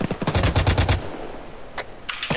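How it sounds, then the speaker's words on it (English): Automatic gunfire in a 1980s Mujahideen-era military combat game, a rapid burst of close, loud shots followed by a few isolated cracks and another short burst. "Shots north."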